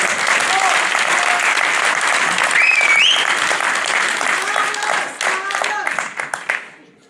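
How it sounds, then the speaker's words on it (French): Crowd clapping at a French municipal election rally, sustained and loud, with a few cheers and voices mixed in before the applause thins and fades out. "Donc, applaudissez-le bien."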